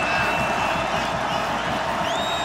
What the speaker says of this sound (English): Crowd starting to get loud here